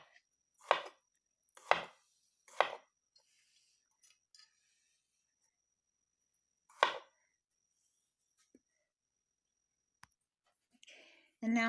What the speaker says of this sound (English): Slice them very thinly